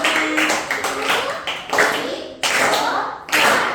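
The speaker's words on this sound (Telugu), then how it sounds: "ఒకసారి చేసి చూపించండి నాకు. క్లాప్" Schoolchildren in a class clapping their hands together in several quick, irregular rounds of sharp claps, each burst fading briefly before the next.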